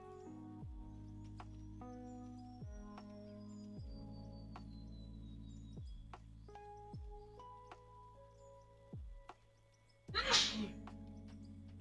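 A single sharp, loud human sneeze bursts out near the end after a long stretch of plucky, tonal background music, with no talking.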